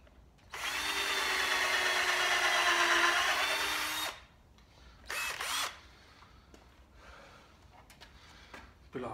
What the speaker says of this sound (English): wouldn't normally drill left-handed